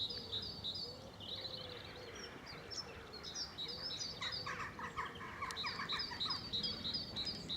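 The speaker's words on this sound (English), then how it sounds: "With a great tit chirping in the background there." A great tit chirps repeatedly in high, rhythmic two-note phrases on a spring countryside walk between Witley and Haslemere, with other birds chattering midway over a low outdoor rumble.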